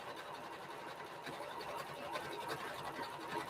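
A sewing machine runs steadily, stitching through a fabric-wrapped rope basket with a continuous close whirring hum and no talking.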